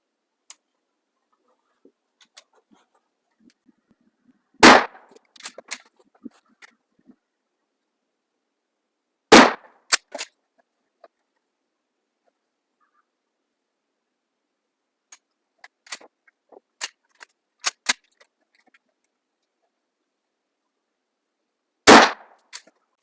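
Four sharp, loud shots ring out one at a time from a Shockwave fitted with a HighBall and SafetySight at an outdoor range, several seconds apart, with faint clicks and handling sounds between them.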